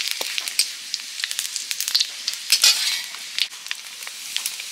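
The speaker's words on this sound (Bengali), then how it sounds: "ফোড়নে দিলাম গোটা জিরে, শুকনো লঙ্কা, তেজপাতা" Whole cumin, dried chillies and bay leaves sizzle in hot mustard oil in a kadai, a steady close hiss broken by crackling pops and faint stirring clinks, with no talking.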